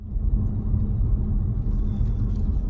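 A car drives along a road in Northern Ireland, a steady low engine rumble and road noise heard from inside the car, continuous and fairly close, with no talking.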